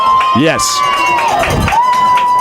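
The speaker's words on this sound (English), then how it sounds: "you can hear the crowd pop there in the background as they will give this first down" Home crowd at a high school football game swelling in a cheer after a play near the first-down line, distant and roaring under a voice speaking over it.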